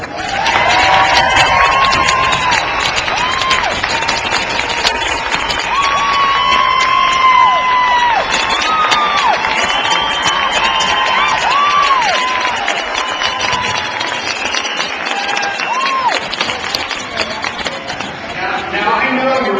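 A packed town hall audience on healthcare applauds and cheers loudly and continuously, with whoops and shouts rising over dense clapping throughout.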